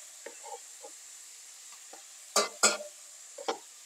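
Tomatoes are stirred into a frying pan, giving a soft, faint sizzle with a few scattered spoon scrapes and two louder stirring clatters.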